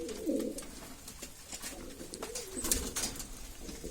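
Soft, low cooing of pigeons repeats through the scene, with a faint chirp or two and light background noise.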